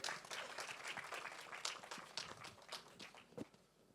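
Audience applause at a film trailer launch event for Dhadak 2, scattered and uneven clapping from a crowd with sharp individual claps standing out, fairly faint and fading by the end.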